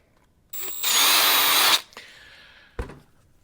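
Power driver spinning out 2.5mm screws from an Arrma Big Rock 4s RC car case: a loud whirring burst of about a second, followed by a softer tail and a short final buzz, with no talk.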